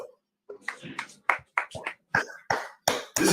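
Children clap their hands for themselves in a classroom after spelling, a series of short sharp bursts in quick succession, growing louder toward the end, with brief voices between.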